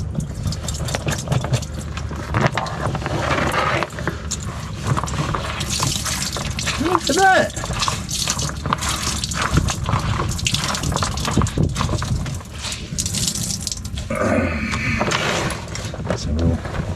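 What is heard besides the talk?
dirty washing water being poured out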